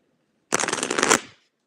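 Tarot cards riffle-shuffled close by, a quick burst of rapid crisp flutters lasting under a second, then a short tail-off into silence.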